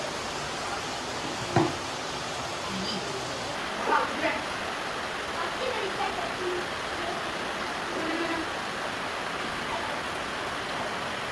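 Heavy rain falls outside as a broad, steady hiss throughout, with a few faint knocks and light kitchen sounds during biryani cooking.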